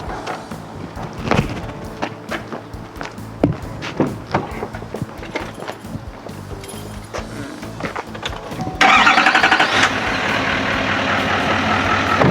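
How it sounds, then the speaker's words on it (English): Close to a truck, irregular clunks and knocks give way after about nine seconds to a louder, steady engine roar as it starts and keeps running. "So I'm going to go around and start the truck"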